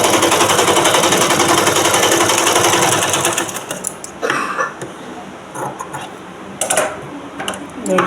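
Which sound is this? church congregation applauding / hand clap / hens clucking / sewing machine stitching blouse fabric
sewing machine stitching blouse fabric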